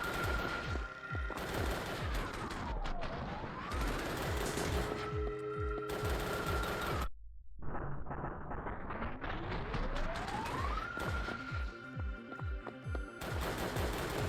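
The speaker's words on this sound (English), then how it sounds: "Do I have to shoot the portal in the wall some more?" Rapid, loud, continuous gunfire from the Xbox game Drake of the 99 Dragons hammers at a portal during a boss fight. The shooting is briefly cut by a sudden drop-out and rising tones before resuming.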